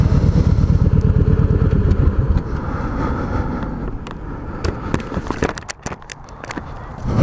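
Harley motorcycle engine running loud and close at first with a rapid low throbbing pulse, then easing back under scattered clatter and crackling knocks toward the end.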